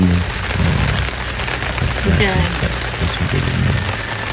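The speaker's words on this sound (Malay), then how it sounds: "Hujan." Steady rain hisses and patters across the whole stretch at a campsite in Cameron Highlands, with a faint voice and some clattering nearby underneath.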